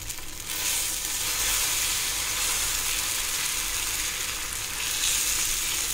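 Tapioca adai batter sizzles steadily on a hot dosa griddle, a loud, close, continuous frying hiss with no talking.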